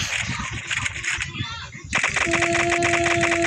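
Rapid bursts of automatic gunfire in the zombie escape mode of the video game Block Strike, loud and close, briefly dropping away before resuming with a steady electronic tone under the shots.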